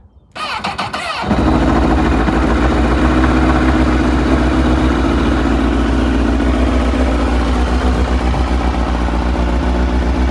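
A Honda CBR1000RR SC57 motorcycle with its side and lower fairings removed cranks over and fires up, then settles into a loud, steady, close idle that runs without a break and with no talk over it.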